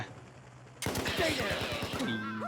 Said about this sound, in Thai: ยิงหัวทิ้งเลยเออจบ